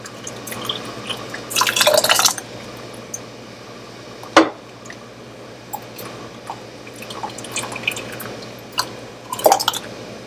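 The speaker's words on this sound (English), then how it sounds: "ladle my hot marmalade into my hot jars" Hot Seville orange marmalade ladled into hot jars, heard as a few close wet pours and clinks spaced over several seconds, with soft sticky drips and small knocks between them.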